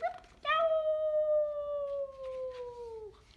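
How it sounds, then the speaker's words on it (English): A coyote howling in the desert at night with one long, clear wavering note that slowly falls in pitch, loud and close, over a quiet background. "if you ever hear a coyote's voice way out in the desert at night"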